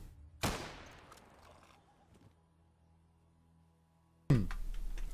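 Gunfire in the video game ATOM RPG: one sharp shot with a decaying tail, a quiet gap, then another loud burst of fire near the end.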